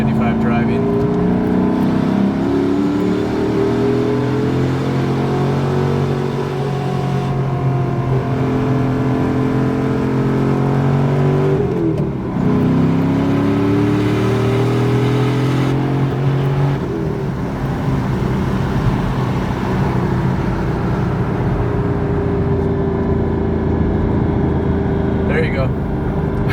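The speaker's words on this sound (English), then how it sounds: "I know you'd be mad at me if I didn't at least show you the C55 driving" A Mercedes C55 AMG wagon engine drones steadily while driving, with rising and falling pitch as it pulls through gears and a brief lull near the middle, sustained and fairly loud from cabin.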